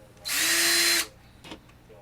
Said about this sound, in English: But these are the 2 we got to drill the holes through.